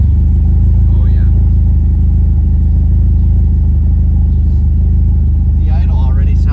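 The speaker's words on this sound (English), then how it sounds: "The idle already sounds different than before too." Nissan S13 engine idling after a fuel system upgrade, a loud, steady low rumble close by with an even throb throughout, and brief talk over it near the start and again at the end.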